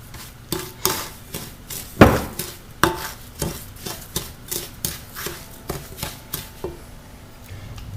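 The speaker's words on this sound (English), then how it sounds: "Stir that around." A spoon stirs brown sugar and melted butter in a pot, producing a steady run of sharp knocks and scrapes against the metal at a brisk, uneven rhythm, close and fairly loud.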